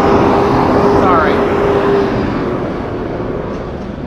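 A big 18-wheeler rumbles past close by, heavy low engine and tire roar swelling and then fading as it moves off, while a person talks over it.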